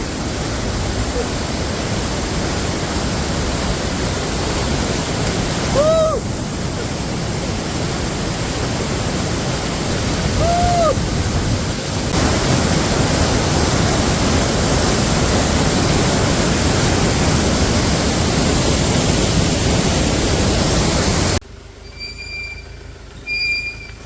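Waterfall at a viewpoint in Coorg, a loud, steady wash of rushing water that fills the whole scene with a few faint squeaks over it, dropping away abruptly near the end.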